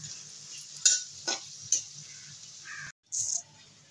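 Potatoes and eggplant fry in a pan, giving a soft, low sizzle under a few distinct scrapes and clinks of a utensil against the pan. A sharper clatter follows a brief silent gap.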